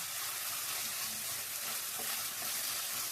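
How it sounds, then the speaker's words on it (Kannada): Brinjal fries in a pan with a steady, dense sizzle of oil and occasional stirring scrapes, close and continuous throughout. "ಈ ಥರ ಫ್ರೈ ಮಾಡಿಕೊಂಡು ನೋಡಿ, ಇದು ಫ್ರೈ ಆಗಿದೆ"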